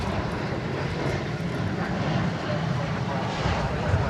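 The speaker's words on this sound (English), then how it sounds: "meanwhile we have another Dreamliner coming in, this one" A Boeing 787 Dreamliner airliner arriving to land at DFW Airport, its engines a loud continuous roar and rumble that holds steady across the whole stretch.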